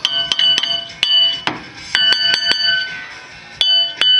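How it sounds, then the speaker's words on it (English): A hammer taps on a rusted front brake rotor of a 2006 Suzuki Aerio, giving sharp metallic ringing strikes, about a dozen irregularly spaced, loud and close with bell-like resonance. "It's gonna take a hammer and just kind of tap on it."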